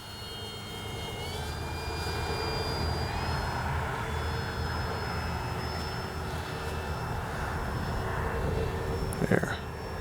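A Kavan Pilatus PC-6 Porter RC model airplane engine whines steadily overhead, its pitch sliding up and down as it passes, over wind noise and a brief clatter near the end.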